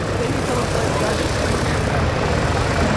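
A US Marine Corps Cobra attack helicopter at an airshow gives off a steady, loud broadband rotor and engine roar that stays constant throughout while an announcer talks over it.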